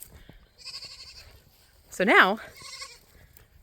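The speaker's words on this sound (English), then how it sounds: "you see 3 goats frolicking through a paddock" Goats loose in a farm paddock bleat, with a loud, quavering close bleat standing out after softer calls, while a person talks nearby.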